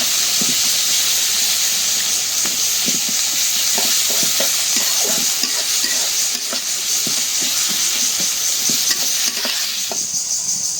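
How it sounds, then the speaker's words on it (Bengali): Onions frying in oil in a home kitchen, cooked until deep red, give a steady, close sizzle and hiss with repeated soft scraping from stirring throughout. No one speaks. "পেঁয়াজটা একদম লাল করে ভেজে নিলাম"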